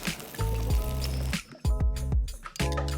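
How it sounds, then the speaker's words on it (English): Water and sauce paste hit frying tteokbokki rice cakes in a pan, giving a wet sizzle with soft squishing and a few light clinks of stirring, close and without talk. "now we add in a little bit of water and our sauce paste"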